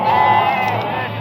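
A goat bleating at a livestock market, one loud, close, wavering bleat filling the short moment with faint crowd noise behind it.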